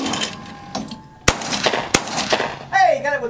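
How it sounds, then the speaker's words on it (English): Two sharp shotgun blasts at an outdoor clay shoot, the second hitting an explosive clay target, ring out over wind and background noise, followed by a voice. "Hey, got it with the second shot."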